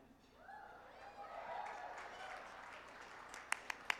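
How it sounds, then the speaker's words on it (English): An audience at a Los Angeles gala applauds, a broad crowd wash of clapping that swells and then fades, with a few sharp, separate claps near the end. "Gotta clap for that"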